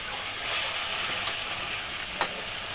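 Potatoes and meat simmer in a pan with added water, giving a steady close sizzle and hiss, with a brief scrape of stirring near the end.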